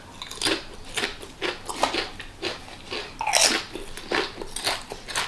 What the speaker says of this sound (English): Some good old-fashioned Pringles potato chips. This being pizza flavored.